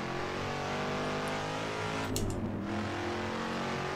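Muscle car on a hill climb, its engine droning at a steady, fairly quiet level throughout, with a brief hissy burst around the midpoint.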